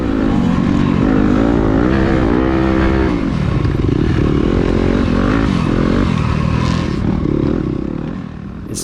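Yamaha YZ250FX four-stroke dirt bike racing at a SECCA round in Meridian, Mississippi, its engine loud and close throughout, revving and shifting pitch steadily as the rider holds the throttle through a downhill turn.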